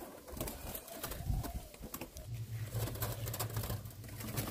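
Caged spotted doves give a low, repeated cooing, steady and close, over a soft background hiss and faint rustling as the birds shift about.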